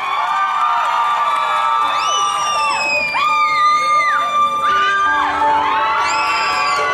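A crowd of fans screams and cheers loudly at a fan meeting, with high shrieks and whoops rising and falling in overlapping waves throughout.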